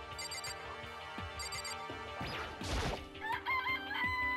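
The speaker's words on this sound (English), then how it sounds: "This place even has chickens, huh?" A rooster crows once, loud and close, in the game Danganronpa: Trigger Happy Havoc, rising over steady background music with no talking.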